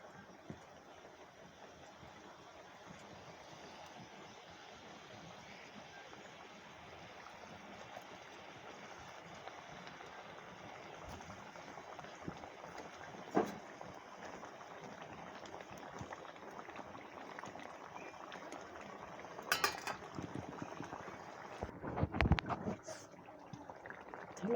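A pot of fish curry with sour yogurt bubbles steadily on the stove, a continuous soft simmering hiss with a few sharper clinks and splashes near the end as fish pieces go in.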